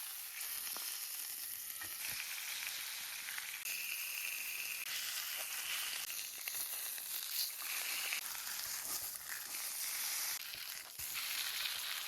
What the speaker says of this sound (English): Press gently to make sure that meat is in contact with the hot surface.